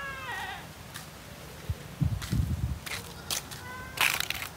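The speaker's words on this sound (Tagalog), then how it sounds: "May mga kambing dito." Goats bleat several times at moderate distance on a farm that also raises pigs, short wavering calls over a quiet outdoor background with some rustling and thumps.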